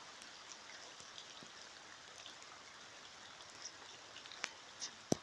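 Rain falls on a small outdoor vegetable garden as a soft, steady hiss of light patter, quiet throughout, with a few sharper drips standing out near the end.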